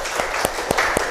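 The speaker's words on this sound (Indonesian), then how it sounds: "tepuk tangan untuk kita semua" A classroom of students claps together in a short burst, with a few sharper, separate claps standing out above a general patter, fairly close and brief.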